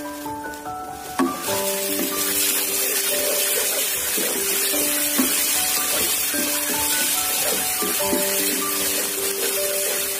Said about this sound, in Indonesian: Kita tumis hingga harum ya.